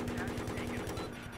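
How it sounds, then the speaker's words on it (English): A helicopter cannon in Battlefield 3 fires a rapid, steady burst of evenly spaced shots, loud and continuous over a low mechanical hum. "some people think I spray and pray, COD style, with this helicopter cannon"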